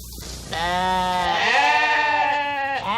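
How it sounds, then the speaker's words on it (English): Sheep bleat loudly and close on an open range, several overlapping wavering cries running almost without a break, with no talk. "Ever-increasing numbers of sheep poured onto the range"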